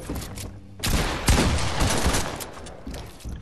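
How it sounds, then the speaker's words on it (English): Dense bursts of gunfire in a first-person shooter game, loud and continuous with sharp shots and rattling automatic fire layered over each other, no voices present. "He shot me through the freaking stairs."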